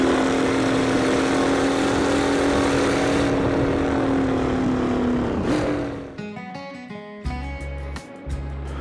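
A modernized 1960s Pessio Porknose formula race car in Assetto Corsa drones at steady high revs for about five seconds, then the engine note drops away as music takes over.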